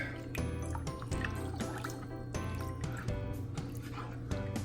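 A thickening sauce mixture stirred in a pan, with wet squelching and bubbling in a steady repeating rhythm, close and moderately loud.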